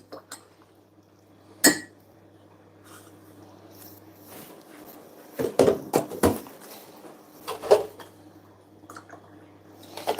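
Cups and cutlery clink and clatter in a few scattered bursts while tea is made, close by, with quiet pauses and a low hum between.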